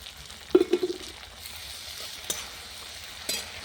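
Ginger, garlic and cumin paste hits a pan of fried onions, hissing and sizzling steadily up close, with a few sharp clinks of a utensil as it is stirred.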